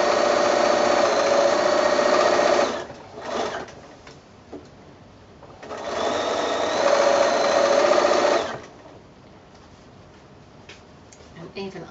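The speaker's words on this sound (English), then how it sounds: "I'm going to do a little back stitch, and I'm going to continue on then with my seam" A sewing machine stitches a mitred quilt border seam in two loud, steady whirring runs of a few seconds each, separated by quieter pauses with light clicks and handling noise.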